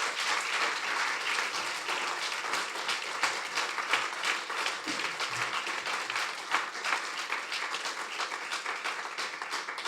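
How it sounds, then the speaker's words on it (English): Sustained applause from a large audience at a Franco-Indian law and business forum, greeting the Chief Justice of India, with many hands clapping in a dense, even roar that carries on steadily throughout. "Can we please have a huge round of applause?"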